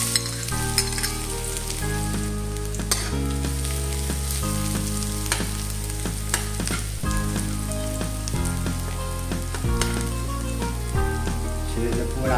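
Garlic sizzles steadily in hot oil with tuna flakes in a pan for a tuna and cabbage sauté, a continuous close frying hiss under background music with no talking.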